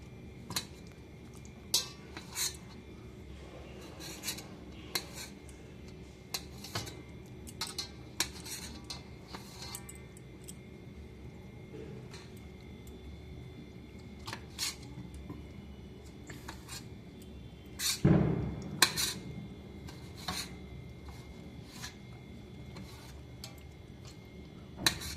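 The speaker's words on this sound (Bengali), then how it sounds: "এই টমেটো দুটোকে আমি এবারে একটু কুচি করে নেব।" Two tomatoes are diced with a knife on a board, giving sparse, irregular sharp taps spread out with pauses, quiet and close, plus one louder clatter near the end.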